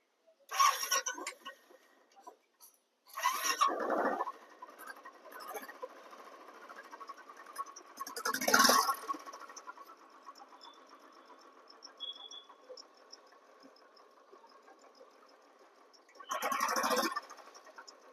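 A rebuilt Royal Enfield Bullet motorcycle engine runs with a low, steady idle hum. Four loud, short revving bursts break through it at irregular intervals, heard close up with no talk.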